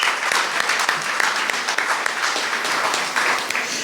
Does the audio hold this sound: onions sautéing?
no